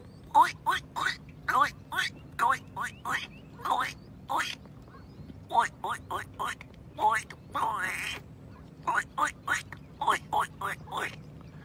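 A person repeatedly imitates a duck with short nasal quacks in rhythmic bursts, close and clear against a low background hum.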